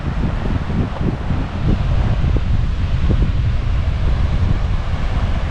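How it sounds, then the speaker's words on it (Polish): Steady wind buffets the microphone on the Spanish island of Ibiza, a loud continuous roar with gusty low-frequency rumbling throughout. "Jest wietrznie,"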